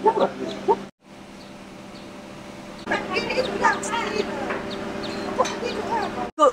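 Chickens kept at a home in Sekinchan cluck and call repeatedly in short bursts close by, while people talk over them.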